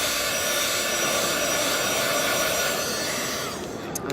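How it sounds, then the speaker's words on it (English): A heat tool blowing hot air to dry stamped StazOn pigment ink, giving a loud, continuous fan-like roar that holds steady for several seconds before easing slightly at the end. "So that's really the only time I use a heat tool."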